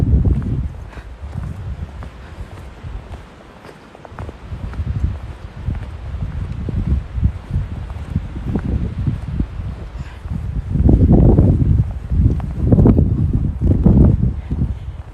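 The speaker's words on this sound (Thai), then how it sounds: "ได้ยินเสียงลมไหมทุกคน" Strong wind gusts buffet the microphone in heavy, low rumbling surges that swell and fade, growing loudest near the end, outdoors in falling snow at about -5 degrees.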